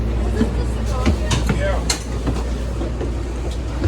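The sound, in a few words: Bombardier multi-level commuter train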